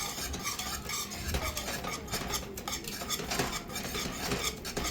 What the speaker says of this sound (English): So I'm going to keep whisking this in there until it's all in there